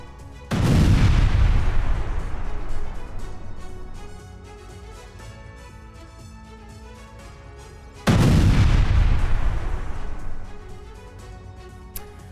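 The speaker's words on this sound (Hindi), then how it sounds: "रूसी पैराट्रूपर्स ने किया बारूदी अटैक।" Artillery fire from an explosive attack in war footage: two heavy booms about eight seconds apart, each a loud deep blast that rumbles and decays over several seconds, with no talk.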